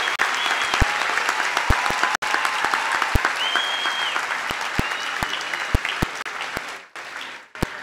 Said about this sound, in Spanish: Solicito un fuerte aplauso para todos ellos.